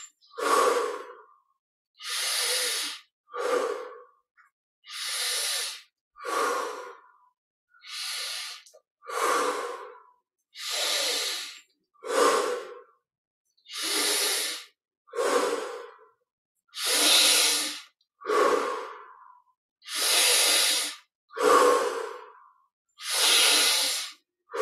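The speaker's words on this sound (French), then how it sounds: "Inspire par le nez, expire par la bouche." Deep, slow breaths during a guided yoga meditation, each inhale through the nose and exhale through the mouth, recurring about every second and a half as a steady run of close, airy breath sounds with no talking.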